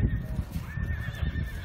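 A horse at a sport-horse showing neighs loudly while its hooves clip-clop in a steady trot close by, with faint voices in the background.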